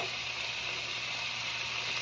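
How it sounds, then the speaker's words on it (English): Braciola browning in a hot pan gives a faint, steady sizzle, an even hiss that runs without a break and with no voices over it. "You hear that sizzle?"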